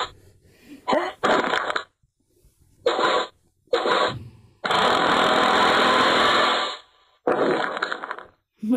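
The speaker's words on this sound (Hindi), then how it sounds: "तो मैं ड्रिल को दबाने वाला हूँ।" Power drill in the Henry Stickman video game, heard as harsh, buzzing mechanical whirs in several short bursts, then one longer sustained grinding run, with silent gaps between.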